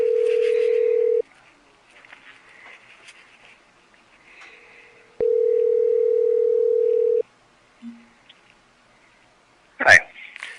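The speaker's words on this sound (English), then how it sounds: "So I'm calling Kenny and I'm gonna flip it upside down and hold it up to my ear." A phone call's dial tone comes through a cell phone audio recorder as two long, steady, clean tones separated by a quiet gap, over faint background hiss, with a short click and a brief handling rustle near the end.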